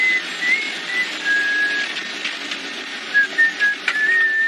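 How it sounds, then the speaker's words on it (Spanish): A co-pilot whistles a thin, wavering tune in an aircraft cockpit, faint and intermittent over a steady hum of cockpit noise. "cuando oímos que el copiloto se puso a silbar"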